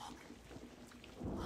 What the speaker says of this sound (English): Can't even see the other side of it with all the rain.